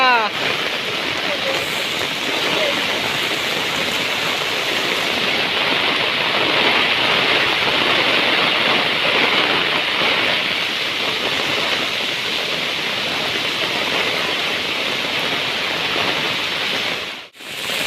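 Heavy monsoon rain pours down in Konkan, Sindhudurg, beside a rising river, making a loud, constant broadband hiss that holds steady for the whole stretch before cutting off abruptly near the end.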